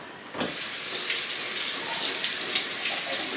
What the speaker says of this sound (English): Okay, I'm gonna wash up.